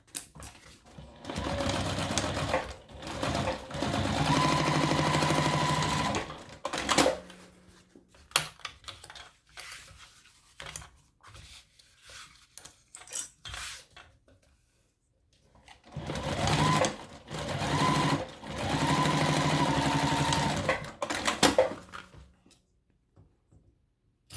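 A sewing machine stitches a strip of accent fabric binding onto a shoulder bag, running loud and close in two long bursts with a quieter gap of stops, clicks and handling between them.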